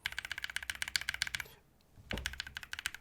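Fast, crisp clacking of typing on a modded mechanical keyboard, close and bright, pausing briefly midway with a soft thump before the rapid keystrokes resume.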